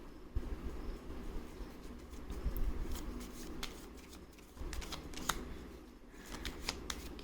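A deck of tarot cards is shuffled and cards are drawn, giving a steady stream of soft, close riffling and flicking sounds with brief snaps, and no talking.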